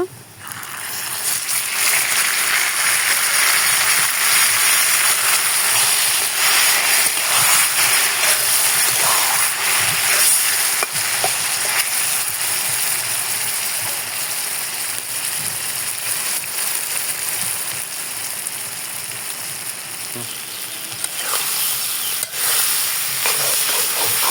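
Boiled taro leaves frying in a pan with karamcha, a loud continuous hissing sizzle that holds steady throughout, with a few brief clatters of stirring near the end.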